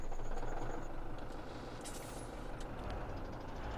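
A low, steady diesel tractor engine rumble in Farming Simulator 17 runs throughout, loud and close, with brief hissing bursts near the middle.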